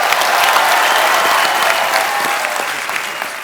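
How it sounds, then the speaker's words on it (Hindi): Studio audience on a Hindi TV comedy talk show bursts into loud, dense applause and cheering that holds strong throughout, easing slightly toward the end. "धर्मेश के लिए जोरदार तालियां यार।"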